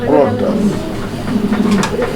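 Pigeons kept in a collection for sale give low, throaty coos up close, repeated through the short stretch before it cuts off abruptly.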